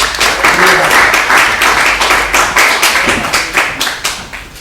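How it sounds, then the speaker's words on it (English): Loud, close audience applause for volunteers at a Pint of Science talk, dense clapping that swells quickly and then thins into scattered claps toward the end. "Round of applause for Guardians."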